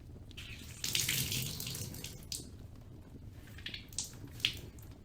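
A washcloth is wetted and wrung in water, running and splashing in uneven bursts with drips and squishy wringing, faint and close with no talk.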